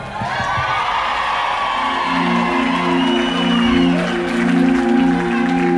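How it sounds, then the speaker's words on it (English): A concert crowd at a live reggae show in Toronto claps and cheers in a loud, steady wash of applause with whoops. Sustained tones from the band ring over it partway through. "That's where you clap."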